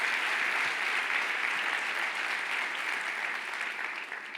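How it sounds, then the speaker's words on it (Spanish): A church congregation claps steadily in a large hall, a broad, even roar of applause sustained throughout without pause, slightly fading toward the end. "Vamos a darle un fuerte aplauso al Señor"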